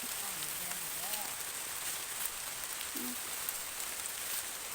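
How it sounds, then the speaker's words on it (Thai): Rain falls through a forest, a steady, soft hiss of drops pattering on leaves, with brief voices faintly heard under it. "ฝนกะตกห้ามแล้ว"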